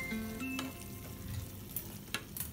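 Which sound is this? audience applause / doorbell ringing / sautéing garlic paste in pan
sautéing garlic paste in pan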